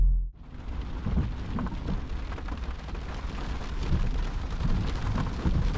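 Steady rain drumming on the roof of a Vauxhall Cavalier with a C20XE engine, parked in London at night, a dense continuous patter with heavier low rumbles running throughout.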